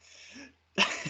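A person coughs while playing a courtroom adventure game: a raspy breathy exhale, a brief silence, then one sharp loud cough burst close to the microphone.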